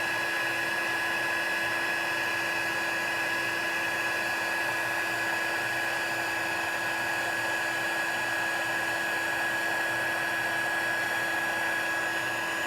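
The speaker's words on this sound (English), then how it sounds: "as I move my embossing, my heat tool around, I'm going to see the silver powder melt" A heat embossing tool blows hot air over silver embossing powder on a card, producing a steady, continuous whirring hiss with a faint electrical whine, unbroken and even throughout.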